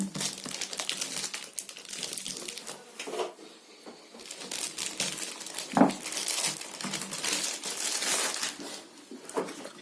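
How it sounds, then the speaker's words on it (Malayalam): Packaging of a JBL Infinity Fuze 100 Bluetooth speaker being unboxed: close crinkling and crushing of cardboard and plastic wrap, steady and rustling throughout, with one sharper crackle midway and no talk. "നമുക്കിതൊന്ന് പെട്ടെന്ന് അൺബോക്സ് ചെയ്തെടുക്കാം."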